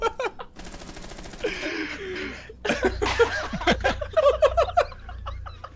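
Gunfire in the Rainbow Six Siege video game comes in short rapid bursts and single cracks, loud and close, mixed with shouting voices.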